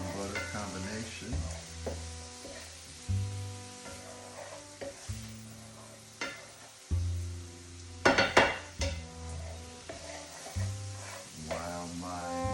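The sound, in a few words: mushrooms frying in oil and butter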